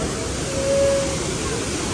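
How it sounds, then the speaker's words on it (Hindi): A waterfall near a cave outside Indore produces a steady, broad rushing roar, with a faint voice briefly audible beneath it. "दोस्तों वो है झरना"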